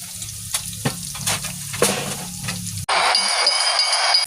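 Food such as dynamite chili and cheese sticks fries in hot oil with a close, bubbly sizzle and occasional stirring knocks, then an abrupt cut to a brighter, louder continuous crackle. Nobody talks.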